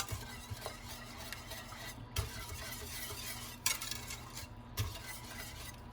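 Coconut macaroon mixture is stirred in a bowl with a utensil in circular motions, a soft repeated scraping and swishing with a few light clinks against the bowl, close up and without speech.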